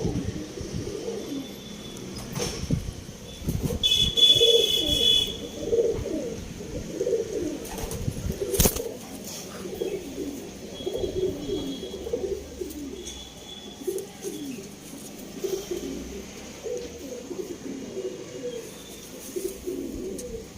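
Pigeons coo steadily in a loft of Arsad and Andhra breed birds, a continuous low burbling chorus from several birds with occasional chirps and a brief flutter of wings, no voices.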